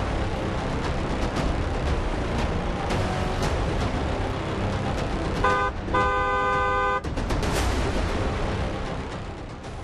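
Car horns honk in dense road traffic in an Indian city, a sustained blaring tone rising above a constant loud wash of engine and street noise near the middle, with other brief toots around it.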